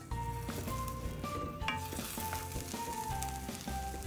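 Smoked herring jollof rice sizzles in a pot with a steady close frying crackle, broken by a few clinks and stirring sounds, and no one talks.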